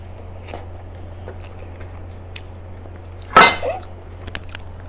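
A single sharp crunch of a papad lentil wafer bitten during a meal of rice and dal, short and close against a quiet room hum, followed by softer chewing.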